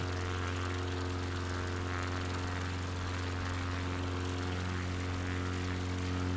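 A steady, droning propeller engine in Microsoft Flight Simulator hums continuously and loudly, with a constant buzzing pitch and no breaks, like a small plane cruising in Alaska.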